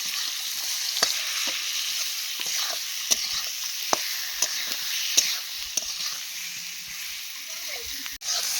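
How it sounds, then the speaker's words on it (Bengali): Kashmiri chili powder frying in a pan for a fish curry with potatoes, a steady close sizzle broken by sharp clicks of a spoon stirring against the pan. "তারপর একটু কাশ্মীরি লঙ্কার গুঁড়ো দিয়ে দিলাম কালারের জন্য। এইবার নাড়াচাড়া করব।"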